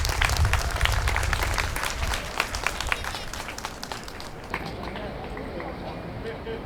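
Applause from a crowd at a memorial evening for Lee Han-yeol, loud and dense at first with a heavy low rumble, then thinning and fading toward the end as the clapping dies down.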